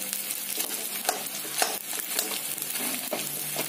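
Pieces of edible gum puffing up in hot ghee, a close continuous crackling sizzle broken by frequent stirring scrapes, heard alone without voices.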